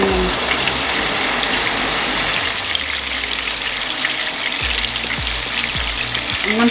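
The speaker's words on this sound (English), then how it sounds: "I'm going to fry my meatballs" Meatballs frying in a pan, a steady loud sizzle that carries on unbroken throughout, close up, with a few faint knocks in the background.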